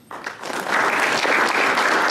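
Audience applause for the professors of a university department at a campus lecture, starting thin and swelling within a quarter second into steady, dense clapping from a full room that holds loud to the end.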